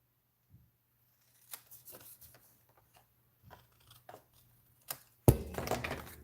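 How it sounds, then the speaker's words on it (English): Scissors trim an overhanging paper strip on a handmade card, with a few faint snips and paper rustles in near silence, then a louder handling thump at the end. "And then it overhangs a little bit, so I just trim it off."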